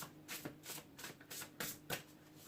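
Quiet, rapid riffling of tarot cards being shuffled, several soft bursts in a loose rhythm over a few seconds, close by with no voices.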